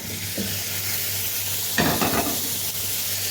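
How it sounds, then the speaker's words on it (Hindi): Chicken pieces fry in a pot for pulao, giving a steady close sizzle with a low hum beneath and a louder burst of crackling and stirring midway, no talk. "अब इसको हम जब तक इसको फ्राई करेंगे जब तक कि चिकन का कलर नहीं चेंज हो जाता"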